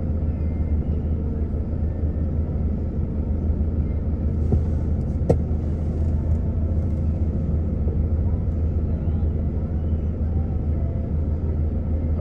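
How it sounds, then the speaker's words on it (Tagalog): A car drives slowly along a road near Baclaran Church, giving a steady low rumble throughout that sits close and constant, with a brief click partway through and no speech. "Ayan, may kasunod tayong sasakyan."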